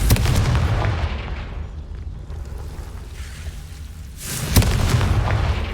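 Confringo fire spell blasting in Hogwarts Legacy, a heavy booming explosion with a rumbling roar that fades, then a second loud burst and crackling rush near the end, no talking.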